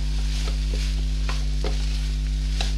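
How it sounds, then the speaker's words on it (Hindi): Minced meat keema filling with grated onion stirred in a pan, with soft intermittent scrapes and clicks of a spoon over a steady low hum and gentle sizzle. "बस इसको ये चला के ना इसको बहुत ज़्यादा मैं इसे भूनूंगी नहीं, बस इतना करूंगी कि ये थोड़ा सा मिक्स हो जाए"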